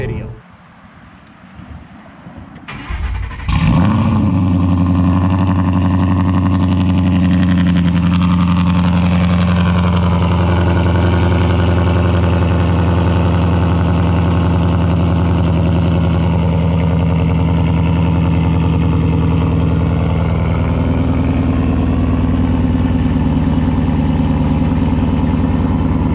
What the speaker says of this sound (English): So you can see the cold start on this video.